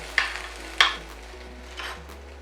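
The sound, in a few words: sizzling garlic aromatics pushed aside in a hot pan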